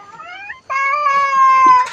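Cats meow for food, hungry: a short meow or two, then one long, loud, drawn-out meow close by, with no talking.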